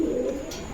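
A female Mukhi pigeon from a breeding pair at a farm gives a brief, soft, low coo close by, fading toward the end with no talking.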